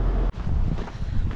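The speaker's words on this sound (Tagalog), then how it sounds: "Malakas ang hangin." Strong wind buffets the microphone outdoors, a brief rough rumble with a momentary drop before the gusting resumes.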